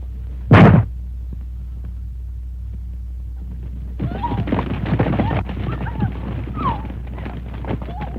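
A loud, sharp burst early on, then hooves clopping irregularly with a horse whinnying, over a steady low hum.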